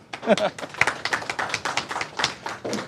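Applause from a crowd at Castlefest, dense overlapping claps that stay steady for a few seconds.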